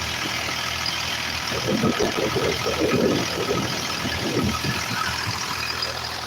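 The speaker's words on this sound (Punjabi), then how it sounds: "ਇਸ ਸਮੇਂ ਦੇਖੋ ਜਨਰੇਟਰ ਆ ਜਿਹੜਾ ਉਹ ਚੱਲ ਰਿਹਾ ਹੁਣ" A generator engine running steadily nearby, a constant low mechanical drone with a brief louder surge in the middle, no talking.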